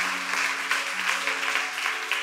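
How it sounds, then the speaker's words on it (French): A congregation at a religious gathering breaks into warm, sustained applause, many hands clapping evenly throughout, with a faint held musical tone beneath. "Applaudissez Jésus"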